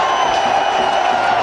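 A packed cricket crowd at Hamilton roars and cheers for Virendra Sehwag's century, a loud, dense, sustained wall of voices with no breaks.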